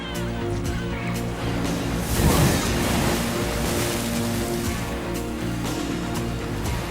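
Ocean surf breaking along the rugged Costa da Morte coast, a steady loud wash of waves with one surge building midway, wind rushing over the microphone throughout.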